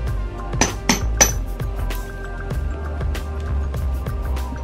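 A hammer taps on a laptop box, giving three sharp, close knocks early, then a run of fainter irregular taps and rattles over a steady background hum.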